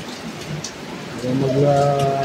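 Heavy rain falls steadily in a dense, continuous hiss. A voice speaks over it briefly.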